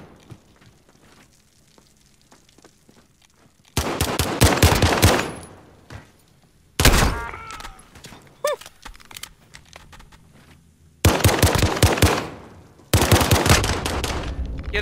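Bursts of automatic gunfire in the video game Call of Duty, loud and sharp, coming in several separate volleys of a second or two each with quieter game ambience between them.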